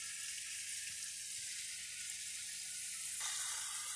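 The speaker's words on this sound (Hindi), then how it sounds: "एक से दो मिनट के लिए भून लेंगे अच्छे से प्याज में ही" Onions sizzling steadily in a hot pan while cooked for a curry-style mutton stew, a continuous close frying hiss with a slight change partway through, no voices.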